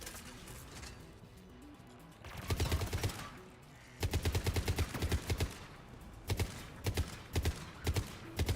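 Bursts of rapid gunfire in Mass Effect 3, clustered volleys of sharp shots separated by brief pauses, loud and close.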